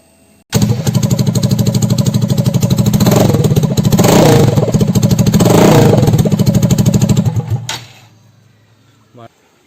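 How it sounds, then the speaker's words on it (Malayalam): With its exhaust removed, a Hero XPulse 200 motorcycle engine starts up loud and close, hammering out a harsh staccato beat. It revs up twice before cutting off, leaving a short tail of quiet. "നമുക്ക് എക്സോസ്റ്റ് ഇല്ലാതെ ഒരു സൗണ്ട് നോക്കാം."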